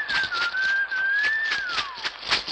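A Western-style whistle opens Iczer-2's theme in the horror anime, a single clear melodic line drifting and gliding downward, played over soft bird-like cooing and light tapping in the background.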